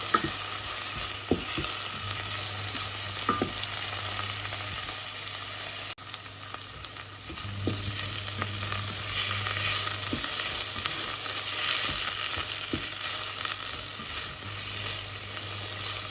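Steady crackling sizzle of callaloo frying in a pan, continuous and close, with occasional stirring scrapes and no voices.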